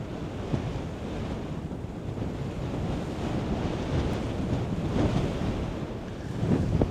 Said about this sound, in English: This wind is so much though.